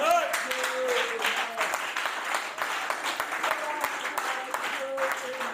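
A church congregation applauds at a French-language evening service, a dense steady patter of many hands clapping through the whole stretch, with voices and faint sustained tones rising here and there beneath it.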